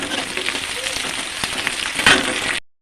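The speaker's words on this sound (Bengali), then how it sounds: "এবার পেঁয়াজগুলো আমি দিয়ে দিয়েছি" Onions frying in hot oil in a wok crackle and sizzle steadily at close range, with a few sharp spatters and a brief clatter near the end before a sudden cutoff.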